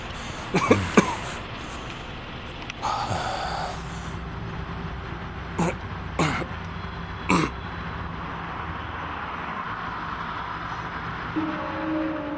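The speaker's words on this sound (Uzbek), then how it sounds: "Nega yo'talyapsan? Shamollaganmisan og'ayni?" A person coughs several times in short, sharp bursts spread across a quiet indoor scene, with a throat-clearing sound and faint background noise between the coughs.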